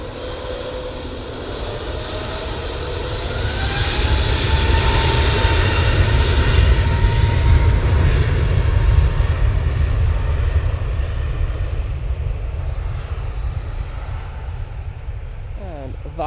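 Jet airliner taking off at Manchester Airport, a loud broadband engine roar building over about four seconds and holding strong before easing, with speech faintly under it.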